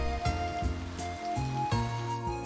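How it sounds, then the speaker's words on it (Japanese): Soft, steady rain hiss runs through the whole stretch of a Sengoku-era strategy game scene, sitting beneath louder melodic background music with deep bass notes. "雨音もしとしとと実に穏やかなもので、耳にする俺の心を落ち着かせてくれた"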